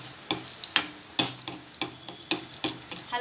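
Gulab jamun frying in hot ghee while being stirred, with a steady sizzle broken by a series of sharp scraping clicks from the stirring utensil about every half second, close and alone.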